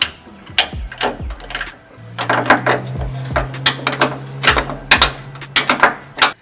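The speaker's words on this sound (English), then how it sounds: "And we're going to install this bolt here." A threaded bolt goes into an airbag mount on a turbo Falcon ute, with sharp metallic clicks and ratcheting taps in irregular bursts, close and alone, plus a low mechanical hum in the middle.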